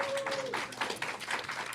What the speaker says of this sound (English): How about another round of applause for our mediums?